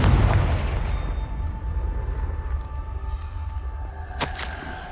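A Confringo fire spell going off in the Hogwarts Legacy video game, a booming blast with a sustained low rumble and a sharp crack near the end, loud and close with no talk over it.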